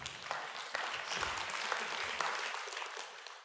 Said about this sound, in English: Yeah, you clap again.